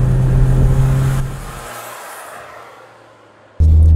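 A BMW 118i F20 engine roars loudly, rising and fading away over a couple of seconds, then the engine note cuts back in abruptly and strongly.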